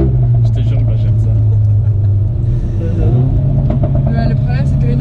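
A Renault Megane 4 RS engine rumbles low and steady throughout, with a voice speaking over the droning motor.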